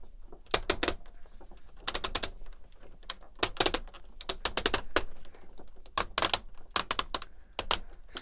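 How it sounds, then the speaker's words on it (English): Tight ratcheting joints on a DX9 Toys D12 Gabriel Transformers Masterpiece-style Omega Supreme figure click in quick bursts of sharp, close clicks separated by short pauses, with no talking. "Super tight ratchets, but not to the extent where I'm worried something's going to break."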